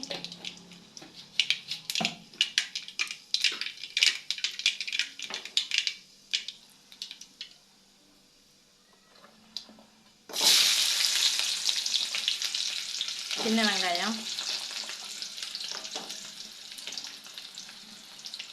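Mustard seeds spluttering in hot oil, first as scattered sharp pops and crackles, then a sudden loud burst of dense sizzling as more goes into the pan, with stirring clatter, all close and without talk.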